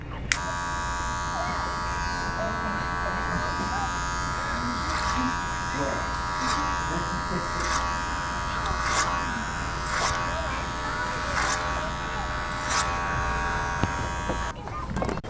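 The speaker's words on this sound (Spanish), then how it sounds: "Con máquina sobre peine empiezan a cortar el cabello de los lados" Electric hair clippers buzz steadily while cutting a small child's hair on the sides using the clipper-over-comb method, a continuous close motor hum with faint periodic clicks, with talking going on in the background.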